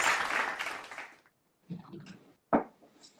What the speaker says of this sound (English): May I request you all to welcome our eminent panel on the digital dais with a huge round of applause, please.